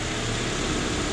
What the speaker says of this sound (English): Dude, it's idling smooth.